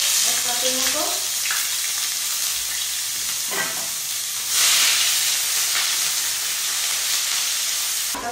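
Chopped onion sizzles steadily in about six tablespoons of hot oil in a pan for shakshuka, a loud continuous frying hiss broken by a few stirring scrapes, with a brief surge of steam midway.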